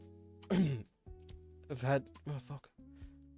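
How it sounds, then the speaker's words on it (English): A single throat clearing from a professor character in a post-modern college game, short and voiced, set over steady background music tones with pauses around it. "I hear the professor clear his throat."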